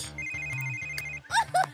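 A Sims 3 phone rings in a steady electronic warble over a pulsing low musical bed. A voice breaks in briefly near the end.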